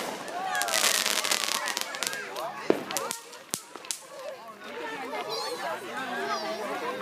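Fireworks burst in the sky in a few sharp, separated bangs with crackling trails, heard at a distance under steady nearby chatter and voices.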